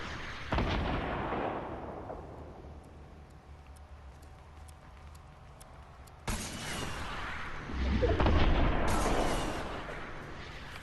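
Rockets fired outside in Fortnite: a sudden loud launch blast, then a fading whoosh, and a second sharp burst followed by heavy rumbling booms, all fairly near.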